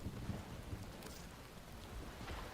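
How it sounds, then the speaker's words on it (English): Rain falls steadily in a nighttime scene of the video game Warframe, with low rumbling thunder rolling underneath, a dense continuous wash of moderate loudness with no voices. "It's raining."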